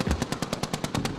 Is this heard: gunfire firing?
yes